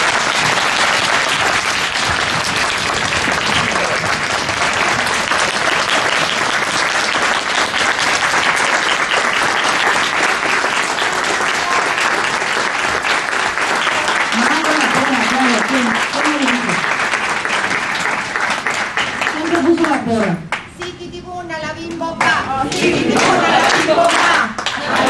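An audience at a book presentation claps loudly and steadily for María Angélica, a dense, sustained applause with some cheering and voices rising near the end.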